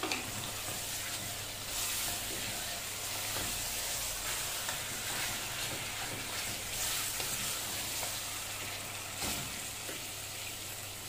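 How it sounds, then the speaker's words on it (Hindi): Marinated mutton sizzles and fries steadily in a hot pan, a continuous crackling hiss with occasional stirring scrapes, close and moderately loud with no talking. "और फिर हम ये मटन डाल देंगे जो मैरिनेट करके रखा है।"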